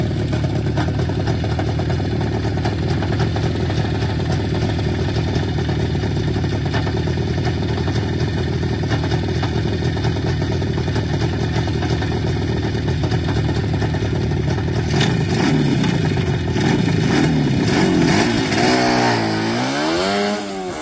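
Tuned IZh Jupiter motorcycle engine with drilled carburettor jets and reworked heads, a steady loud two-stroke drone that climbs sharply in pitch near the end as it accelerates, with no talking.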